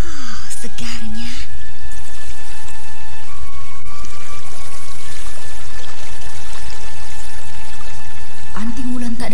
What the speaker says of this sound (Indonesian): Ia pun kemudian memanjakan tubuhnya dengan air sejuk dari pancuran itu.